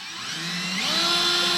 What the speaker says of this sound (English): I'm gonna take a drill bit and just poke a hole on the underside of this